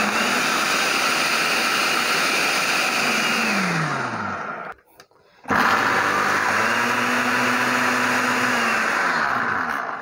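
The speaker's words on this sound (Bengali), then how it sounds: "আজকে আপনাদের জন্য খুবই চমৎকার কোয়ালিটির ফুড প্রসেসর নিয়ে আসছি।" A Miyako multifunction food processor motor whirs loudly and steadily, pitch rising as it spins up, cuts out briefly near the middle, then restarts and runs at full speed again.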